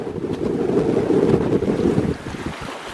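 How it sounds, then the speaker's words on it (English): Strong wind of about 20 knots with 25 to 30 knot gusts roars and buffets the microphone at Peck Lake in a continuous gust, easing off toward the end, with no talking. "it is a little bit breezy right now."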